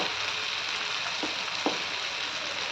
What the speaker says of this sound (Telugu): దగ్గరుండి వేయించుకోవాలండి బాగా, కాకపోతే మాడిపోతుంది